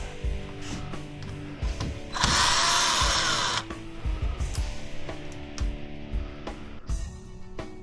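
A power drill backs stainless steel screws out of an extruded aluminum glass shower door frame, with one sustained whir of about a second and a half amid clinks and handling noises.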